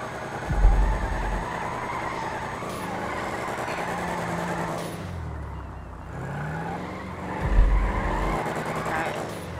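A car drifting in FiveM revs and whines through sustained engine drone, with two deep low thumps and shifting tire and engine tones, mixed under a voice talking.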